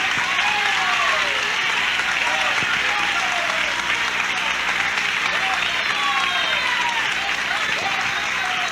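A church congregation applauds in a loud, dense, continuous wash, with voices and shouts rising over the clapping throughout.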